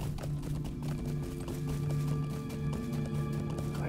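Horse hooves clip-clop in a steady, quick rhythm as a character rides in Lord of the Rings Online, with a sustained musical drone running beneath.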